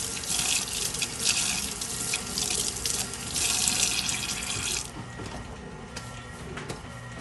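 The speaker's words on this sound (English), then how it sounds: "I'm gonna wash my gloves here" Gloves are rinsed under a running kitchen tap during twice-baked potato prep, a steady close rush of water that softens after about five seconds, with no talking.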